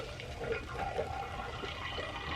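Milk on a farm is poured into a filter, a soft, continuous liquid rush and splash with a steady trickle that runs the whole time, close and fairly quiet with no talk.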